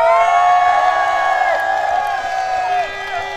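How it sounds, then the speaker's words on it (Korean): A festival crowd at the Chuncheon makguksu and dakgalbi festival cheers, whoops and applauds loudly and continuously, a dense wall of voices that eases slightly toward the end. "어떻게 살아계신지 한번 박수 소리 한번 들어보겠습니다"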